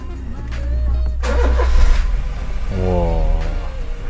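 A 2012 Honda Jazz RS automatic engine runs steadily at close range with a low rumble, rising briefly as if revved, while a voice speaks over it partway through.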